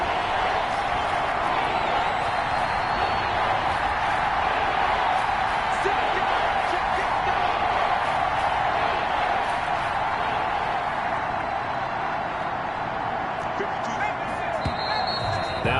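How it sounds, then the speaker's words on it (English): Dense stadium crowd roar at an NFL game between the Dallas Cowboys and the Philadelphia Eagles, a steady broad wash of cheering and shouting that holds loud throughout with a commentator talking over it. "That just means this crowd's going to get even louder."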